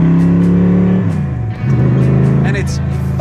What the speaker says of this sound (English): the first thing you take in is the noise. The side pipe exit exhausts come down and exit just past my hip,